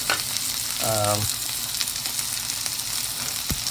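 Unroasted chili powder and salt fry in a pan for devilled shrimp (prawns), giving a steady, close sizzling hiss with a brief stirring scrape partway through.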